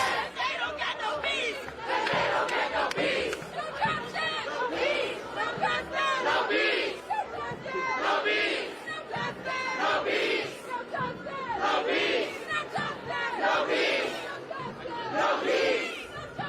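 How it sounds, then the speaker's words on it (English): A large protest crowd chants in rhythmic unison outdoors in New York City, voices rising and falling in repeated phrases of "No justice, no peace", with shouting and chatter mixed in. "And now protesters are chanting, if we don't get no justice, they don't get no peace."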